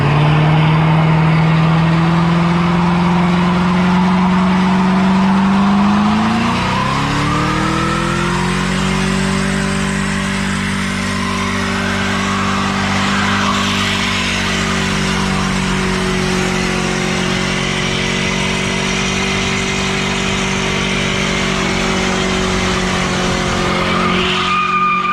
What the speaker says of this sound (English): we're gonna do a burnout in the Narcs cart